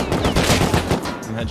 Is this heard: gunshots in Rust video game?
yes